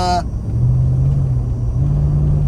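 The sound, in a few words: Mercedes AMG small V8 engine rumbling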